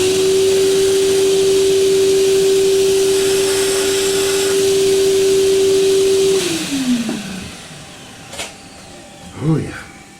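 A vacuum cleaner running in a workshop beside a Multifix lathe setup, a loud steady whine that holds for about six seconds, then drops in pitch as the motor winds down, followed by a few brief clicks and knocks.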